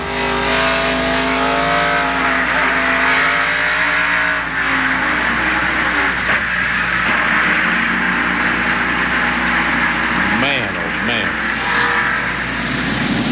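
A 1991 NASCAR Winston Cup stock car roars around Bristol Speedway in Tennessee, heard from Ernie Irvan's in-car camera as a loud continuous engine drone rising and falling through the laps, with a commentator talking over it.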